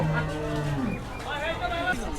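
A cow moos once, long and low, close by at a busy cattle market in Hozrotpur ahead of Qurbani, followed by fainter moos and crowd murmur in the background.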